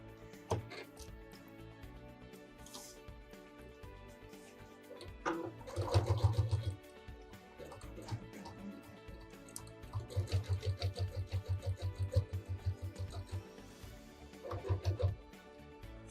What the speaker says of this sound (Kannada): ಇವಾಗ ಸ್ಟಿಚ್ ಮಾಡ್ಕೊಳ್ಳೋಣ.